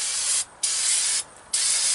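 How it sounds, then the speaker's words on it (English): Brake cleaner sprays onto the brakes of a Dodge pickup truck in loud, close, steady hissing bursts, stopping twice for brief gaps and then resuming. "The brake cleaner will dry out the oil."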